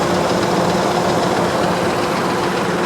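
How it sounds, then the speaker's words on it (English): A 5.4 engine in a retired AT&T work truck idles steadily, a loud, close, continuous rumble with a fine rapid pulse and no break. "Good engine. Sounds healthy."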